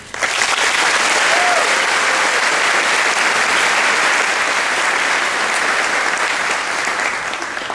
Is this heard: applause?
yes